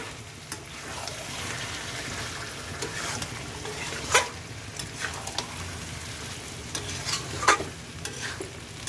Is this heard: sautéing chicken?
yes